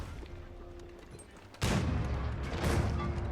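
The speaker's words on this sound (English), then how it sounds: "Cannons hit the keep a couple times." Cannons in Age of Empires IV open fire on a keep with a sudden heavy boom that sets off a dense, rumbling barrage of impacts. A quiet stretch comes first, and a second loud burst follows soon after.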